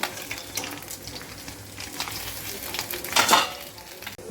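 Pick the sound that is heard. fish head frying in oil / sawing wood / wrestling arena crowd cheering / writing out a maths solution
fish head frying in oil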